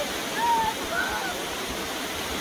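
A tiered waterfall roaring steadily nearby on a November hike, a dense continuous rush of falling water with no pauses.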